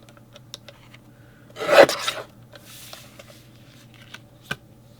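A paper trimmer slices through mat board in one short rasping cut near the middle, followed by faint rubbing and a sharp tap in an otherwise quiet room.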